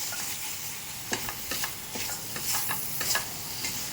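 Thin, long strips of totapuri mango are stirred into hot, thick sugar syrup, giving faint bubbling with soft scraping clicks and taps from the stirring, quiet and close.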